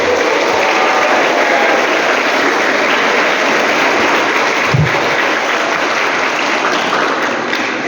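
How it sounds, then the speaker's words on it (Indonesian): A school crowd gives loud, dense applause for the middle school students, a steady, close wash of many hands clapping without a break and with no talking over it. "tepuk tangan untuk yang SMP"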